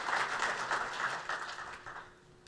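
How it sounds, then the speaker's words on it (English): An audience at a live business panel event applauds a singer, a dense, moderately distant wash of clapping that fades over a couple of seconds. "big round of applause for Corey for the national anthem earlier"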